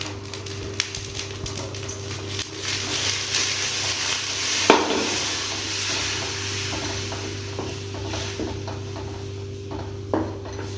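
Black urad dal flour is stirred in a pan of boiling water for halwa, with steady scraping and stirring over a soft sizzle, continuous and close, and occasional clicks of a utensil.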